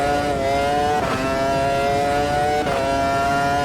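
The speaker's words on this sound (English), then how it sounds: "But on the downshifts you get all the popping, the aggressive sounds as you'd expect with these" Race car engine in the sim racing game Automobilista 2, running on groove tyres, holding a loud steady high-pitched drone with two brief downshift blips and pops, alone with no talk.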